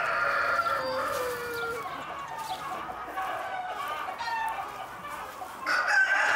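A Sulmtaler rooster crows loudly and repeatedly close by, with hens clucking around it in a busy farmyard.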